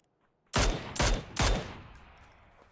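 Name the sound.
gunshots in the video game PUBG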